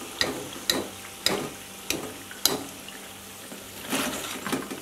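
Surul poori fries in hot oil at a low simmer, with a soft steady sizzle broken by regular sharp clinks and taps, and a brief busier bubbling toward the end.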